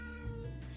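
A cat on a farm gives one drawn-out meow, clear and close, with nothing else competing.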